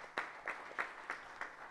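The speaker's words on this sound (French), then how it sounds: "une belle main d'applaudissement pour lui aussi" A few sparse claps at a municipal council meeting, faint and distant, a thin patter with only five or so distinct hand strikes over a short stretch.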